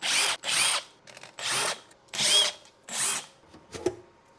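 A power drill spins out screws around the perimeter of a Vatrer 48V 100Ah LiFePO4 server rack battery case, close-up in five short whirring bursts separated by brief pauses, then a quieter tail of clicks.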